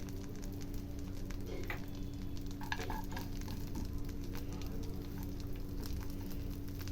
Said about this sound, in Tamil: இப்போது பாதாமை பட்டரில் ஃப்ரை பண்ணி எடுத்துடலாம்.